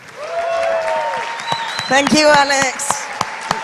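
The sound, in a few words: audience applause at summit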